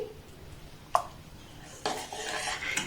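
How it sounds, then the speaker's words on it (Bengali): A ladle scoops thickened milk mixture from a pot, giving a sharp metal clink near the start followed by softer scraping and knocking against the pot. "এটা হাতার মাধ্যমে উঠিয়ে নিচ্ছি।"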